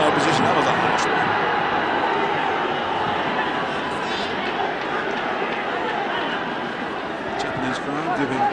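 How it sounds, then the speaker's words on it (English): Japanese stadium crowd at a 1993 Club World Cup football match between São Paulo and Milan, a dense continuous roar of chatter and jeering aimed at the linesman, steady and loud throughout with no clear individual voices. "Japanese crowd giving Japanese linesman a bit of stick."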